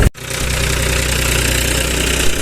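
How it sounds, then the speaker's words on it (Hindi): Tractor engine idling on a farm field during sugarcane planting, a loud close steady diesel chug after a brief cut at the start, with no talk. "अब यहाँ पापा ने ट्रैक्टर एकदम रोक दिया"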